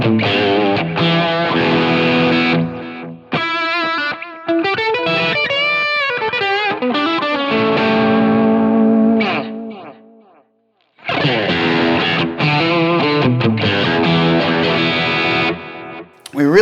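A distorted electric guitar runs through a Line 6 Helix Deranged Master amp model with the treble set at 5, playing crunchy chords and bending single-note phrases, close and loud, with a brief pause before the chords return.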